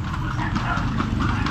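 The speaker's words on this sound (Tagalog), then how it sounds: "Kukuhanin ko ito ng stick sa pamamagitan ng sakay sa kabayo." Horse hooves clip-clop steadily and close by as the horse is ridden in a traditional Filipino horseback game, with a continuous loud rhythmic patter and no talking.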